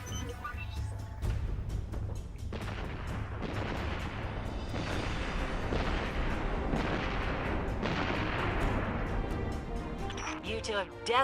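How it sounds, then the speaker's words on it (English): Repeated booms and gunfire-like blasts from the video game Destiny 2 play in a rapid, continuous barrage over several seconds, loud and layered, with a voice talking at times. "Ready for explosions."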